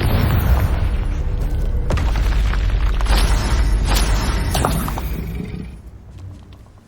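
Confringo spell explosion in the video game Hogwarts Legacy, a loud sustained boom and rolling rumble with crackling bursts that fades out toward the end.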